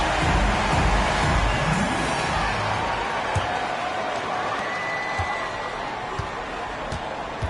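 Continuous fourth-quarter basketball arena crowd roar in the PlayStation 5 game NBA 2K22, with scattered cheers and a few sharp thumps, steady and fairly loud throughout.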